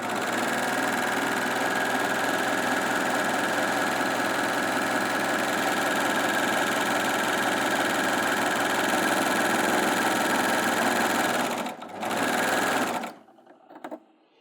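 Baby Lock Acclaim overlocker sewing along a raw fabric edge, a loud continuous mechanical whirring with rapid stitching for about twelve seconds before it briefly stutters and stops.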